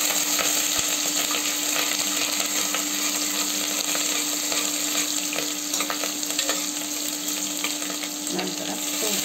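Dry chili frying in hot oil for khara pongal, a constant close sizzle with faint crackles and occasional light stirring clicks, and no talking.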